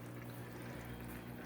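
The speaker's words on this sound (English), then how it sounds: "now you can see water is being drained out of the tank. It's going into this 5-gallon bucket" Water steadily drains out of a saltwater aquarium into a 5-gallon bucket, a faint, continuous wash of pouring liquid heard close up with no voices.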